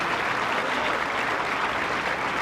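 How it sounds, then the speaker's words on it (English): Sustained applause from a tennis crowd at the 1997 Rome final, cheering to lift Corretja; dense, steady clapping fills the whole stretch without a break and with no voices standing out. "Crowd really trying to get Corretja going"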